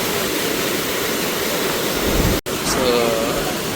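Water rushing through opened sluice gates roars steadily and loudly during flooding in Jaffna, with a brief cut near the middle, and a voice is faintly heard afterward.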